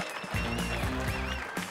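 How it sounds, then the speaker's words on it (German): A crowd applauding at a scooter show after a 250 cc Lambretta engine demonstration, dense clapping heard amid a man's German-speaking voice over a PA. "Bitte noch mal einen dicken Applaus für den geilen Sound."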